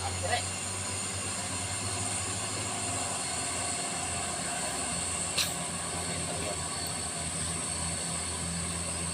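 A vehicle engine roars steadily under heavy load while climbing a steep incline, with smoke billowing; the drone is loud, continuous and close, with a brief louder burst partway through.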